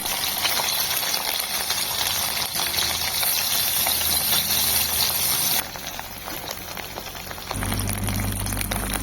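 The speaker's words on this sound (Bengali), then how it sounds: "এবার আমি ছানাটাকে ভেজে নিই" Chhana (cottage cheese) frying in a pan alongside chopped chilli, tomato, garlic, ginger, cardamom and onion, giving a steady, close, bubbling sizzle that drops briefly and then swells again, with no talk over it.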